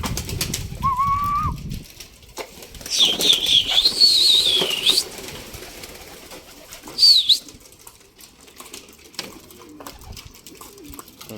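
Pigeons released to fly, with bursts of wing flapping around the loft, a couple of whistling calls and cooing, soft rustling between, moderately close.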